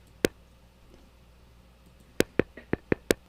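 A raw drum trigger signal, the splat, comes as sharp isolated clicks: one hit, a pause, then a quick cluster of five more snappy pops, bright and dry over a quiet background.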